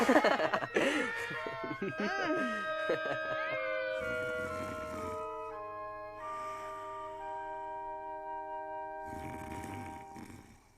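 A male cat meows a few times close by at the start, with sliding, wavering cries, after which sustained tonal music carries on to the end.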